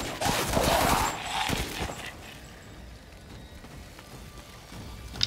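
A burst of rapid gunfire from a weapon in Resident Evil Village comes in the opening two seconds, fired against hostile bioweapons. A few scattered shots follow and fade into quieter ambience, and a sharp crack lands at the very end.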